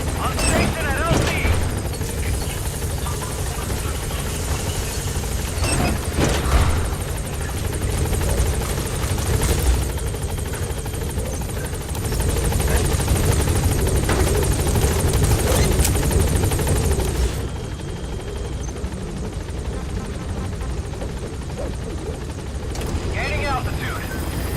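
Pequod helicopter arriving in Metal Gear Solid V, a loud, close, continuous rotor thump and turbine roar that holds for most of the clip before easing off, with radio voice chatter over it.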